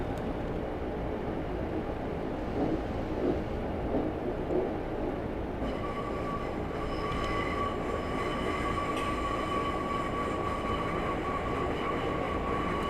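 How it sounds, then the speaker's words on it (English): A Class 142 diesel multiple unit in Train Simulator 2018, on the Leeds to York via Harrogate route, coasts with power off, giving a steady rumble of wheels on rails, with a sustained wheel squeal and whine joining partway through. "I'm going to shut off the power now and allow the train to coast"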